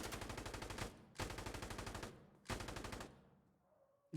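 Three loud, close bursts of rapid automatic gunfire from the Insurgency Sandstorm video game, each lasting about a second with short gaps between them.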